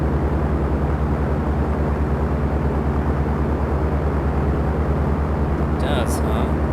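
Piper Cherokee light aircraft in the Dovetail Games Flight School simulator, its engine at full takeoff power: a steady, loud droning hum with strong low harmonics, constant throughout, with a brief higher sound near the end.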